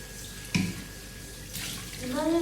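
Water from a tap runs into a sink while young children wash plates and spoons, a steady splashing stream with a brief clatter near the start and voices speaking over it toward the end.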